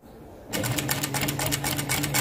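A home sewing machine run by a beginner stitching a drawn wavy line, starting abruptly after a quiet moment and then whirring with a fast, steady mechanical rattle close up.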